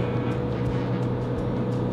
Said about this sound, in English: Sounds like the car is about to blow up.